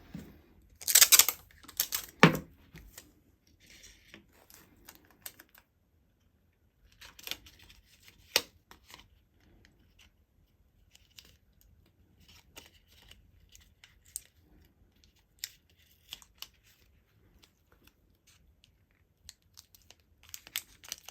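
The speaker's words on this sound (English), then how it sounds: "So let's tape that up." Adhesive tape pulled and pressed onto folded paper pieces for a homemade golf training aid, with a loud burst of tearing and crinkling at the start, then scattered light taps and rustles, close up with no talking.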